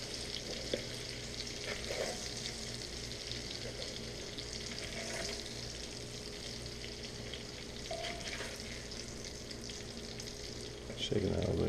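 Andouille and smoked sausage sizzle steadily in grease in a pan, a constant frying crackle with occasional scrapes and stirs as the meat is scooped, and a heavier clatter at the end.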